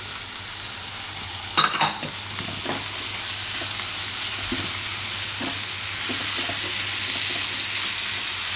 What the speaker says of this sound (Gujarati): અને એમાં આપણે પાકવા દઈશું કેપ્સિકમને.